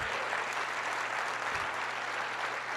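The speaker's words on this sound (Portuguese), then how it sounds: "Aplauda o Senhor" A church audience applauds in a steady, even wash of clapping, moderately distant and without any voice over it.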